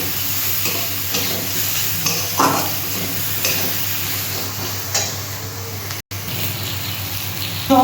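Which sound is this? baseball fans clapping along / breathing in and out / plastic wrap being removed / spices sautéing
spices sautéing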